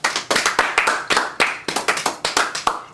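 An audience at a Feast of Unleavened Bread gathering claps after a testimony: sharp, irregular hand claps from a small group, fairly close, with no voices over them.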